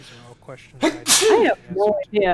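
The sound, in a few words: sneeze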